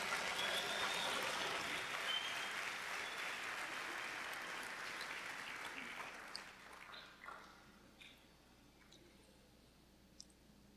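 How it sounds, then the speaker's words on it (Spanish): Congregation applauding inside a church, a dense wash of clapping that starts loud and gradually thins and fades over about ten seconds, ending in a few scattered claps. "Dale fuerte ese aplauso al Señor."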